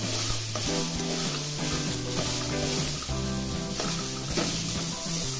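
Mixed vegetables sauté in hot oil in a kadhai for a mix veg Kolhapuri, giving a steady broadband sizzle that runs the whole time beneath continuous background music.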